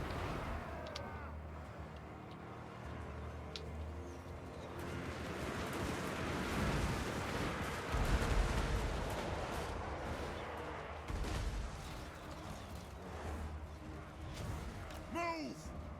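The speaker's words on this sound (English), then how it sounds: "look at what the guns are doing to them" Massed guns fire on advancing troops in a Warhammer 2 battle, a dense rolling rumble of shots and blasts that swells in the middle and continues under music and game noise, with a voice talking over parts of it.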